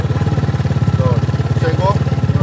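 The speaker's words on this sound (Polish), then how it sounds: "Podaj tam gazu, zobacz jak to chodzi." Kayo 250 T4 four-stroke dirt bike engine running steadily with a rapid, throbbing pulse, close by, while people talk over it outdoors.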